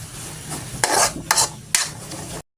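Mixed vegetables sizzle and clatter in a pan as they are stirred, a steady hiss broken by a few louder scraping bursts, close and with no talking.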